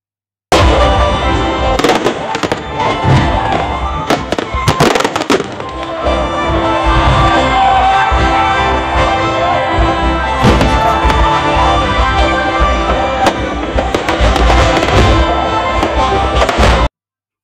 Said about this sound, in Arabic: زي ما احنا شايفين احتفالات فاير ووركس في صوت ميوزك في الخلفية